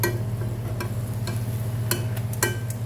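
Tandoori chicken masala stirred in a pan with a low steady sizzle, and a few soft scrapes and taps as the spoon turns the masala.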